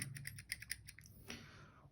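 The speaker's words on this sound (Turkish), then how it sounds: "Şöyle her basımda ideal bir uç çıkaran mekanizma. Mekanizma sesi tatlı sert." Rapid, crisp clicks from the push mechanism of a TWSBI Precision mechanical pencil, a quick run of close, faint taps followed by a softer sliding click.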